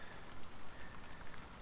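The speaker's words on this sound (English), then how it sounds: "Rain's getting a bit heavier now." Steady rain falling on a surface outdoors beside a 1999 Land Rover Discovery 2 under repair, a dense continuous hiss with soft drop patter swelling slightly in intensity, no voices.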